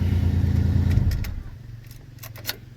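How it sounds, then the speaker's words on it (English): A 2000 Ford Ranger truck's idling engine rumbles up close and then cuts off after about a second. Faint key jingles and light clicks follow in the quiet. "turn the truck off."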